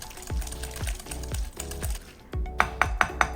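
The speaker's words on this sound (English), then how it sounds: "एक बोल में डालेंगे हंग कर्ड, let's whisk this." Hung curd being whisked by hand in a bowl, a steady run of rhythmic scraping taps against the bowl, close and fairly quiet, with the strokes growing sharper and faster toward the end.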